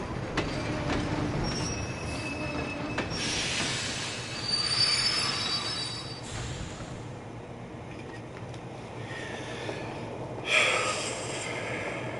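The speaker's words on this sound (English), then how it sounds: "The train will be arriving shortly." A train pulls into a station in Kingdom Hearts 2, its wheels squealing loudly over a rumbling rail roar that swells midway and then eases off.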